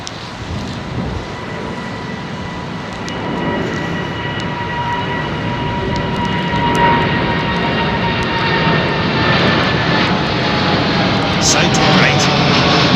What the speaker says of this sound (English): What a nice full power departure.